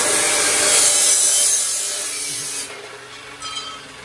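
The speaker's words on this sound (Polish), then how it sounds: "Mechanik tam docina jeszcze dwie części." A mechanic cuts metal parts at a workshop while finishing a guillotine shear, giving a loud, close, continuous rasping grind that fades partway through and then comes back in brief bursts.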